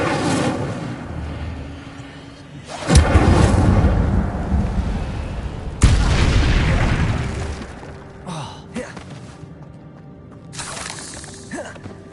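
In the video game Hogwarts Legacy, Incendio fire spells burst out as loud whooshing booms, two big blasts a few seconds apart, each fading into a roaring rumble, then smaller crackling flares later.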